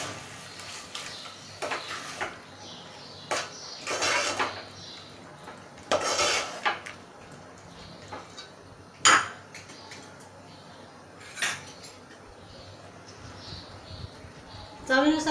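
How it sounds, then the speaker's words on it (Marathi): Onion-coconut masala paste being stirred into Malvani chicken curry in a pan, with a spoon knocking and scraping against the metal in scattered sharp clinks, some louder, under quiet talk. "मिक्स करूया."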